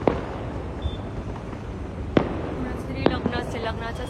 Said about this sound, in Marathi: तेव्हा तिथे फटाके फुटतात.